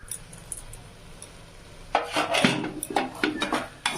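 Cooked chana (chickpeas) being mashed in a pan, with a metal utensil scraping, pressing and clinking against the pan in irregular bursts after a quiet start, close and fairly loud.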